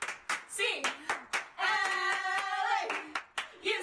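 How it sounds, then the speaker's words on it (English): During a UCLA men's basketball gameday event, a group claps a sharp, rhythmic eight-count pattern, with a sustained chanted group shout in the middle and more crisp, evenly spaced claps afterward. "Let's keep that Bruin spirit going with an 8 clap."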